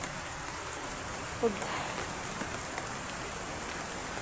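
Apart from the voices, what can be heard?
rain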